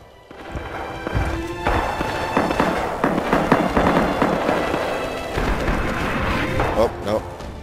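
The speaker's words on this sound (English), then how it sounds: "Left side's being bombed." Bombing in a cooperative war shooter game sends continuous booming explosions and crackling debris across the field for several seconds, loud and close.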